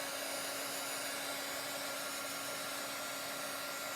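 A hair dryer blowing steadily on a cookie decorating stir stick: a loud, constant close-up whoosh with an even motor hum, unbroken for the whole stretch and with no voices.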